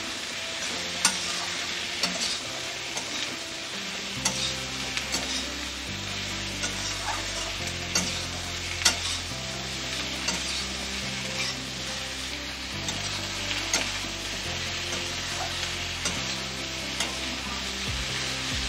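Kochur loti (taro stolons) fry with onion in a pan, a steady sizzle under repeated scraping stirs of a spatula, close and continuous with no talk.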